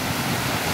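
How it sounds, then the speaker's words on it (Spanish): Sea waves churning around a passing yacht off Boca del Río, Veracruz: a steady, loud wash of broadband surf noise, continuous and unbroken for the short moment, with no voices. "Sorteando las olas"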